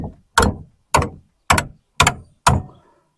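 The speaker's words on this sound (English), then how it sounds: "all I do is take a hammer," A hammer strikes the metal tabs of a fence bracket flat in six sharp, evenly spaced blows, each a loud close metallic clang that decays quickly into silence.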